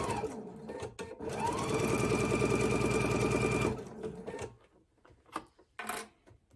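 A sewing machine stitches quilt block fabric in a steady rapid run for about three seconds, close and loud, then stops, followed by a few soft handling clicks and rustles.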